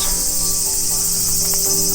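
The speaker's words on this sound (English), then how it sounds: "Can you hear the cicada?" Cicadas at Gakuniwa-jinja Shrine in Japan keep up a loud, continuous high buzzing drone, steady and unbroken, with faint low background hum beneath.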